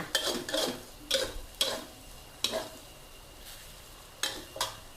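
Eggs being stir-fried with pork and garlic in a pan, with a spatula scraping and clanking against the metal in sharp irregular strokes over a faint background sizzle, close and alone without talk.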